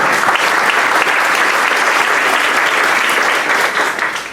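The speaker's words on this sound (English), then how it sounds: "So we're going to give them a round of applause." A room of Rotary club members claps for their past presidents, a steady dense round of applause that holds evenly for about four seconds before thinning slightly at the end.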